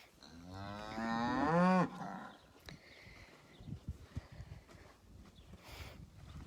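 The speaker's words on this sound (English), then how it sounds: "You can see a great representation of all the cattle here up getting water." Cattle gathered at a watering bowl on a farm, with one long, loud, rising moo near the start, followed by shuffling, soft thuds and quieter movement of the herd.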